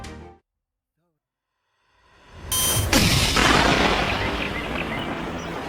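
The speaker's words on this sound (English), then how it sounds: "The sound of gunfire echoes among the misty mountains of the Victoria Highlands" After a short silence, a heavy hunting gunshot booms and rolls away in a long, rumbling echo among misty mountains, loud and spacious.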